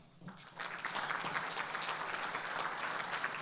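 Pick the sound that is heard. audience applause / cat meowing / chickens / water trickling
audience applause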